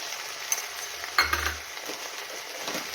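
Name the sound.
stirring red chili powder into greens frying in a pan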